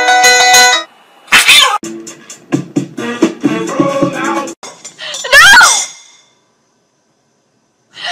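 A cat meows and yowls several times in bursts, loud and close, mixed with voices, then falls silent.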